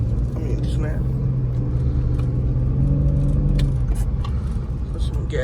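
A car on the way to a gas station drives with a steady, close engine rumble and road noise, with a voice talking over it and light rattles inside the cabin.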